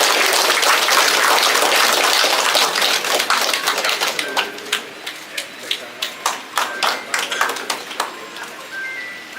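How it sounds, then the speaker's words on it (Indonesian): An audience at an association's official inauguration ceremony gives a loud, full round of applause that gradually thins into scattered individual claps toward the end. "Kita beri aplaus bersama."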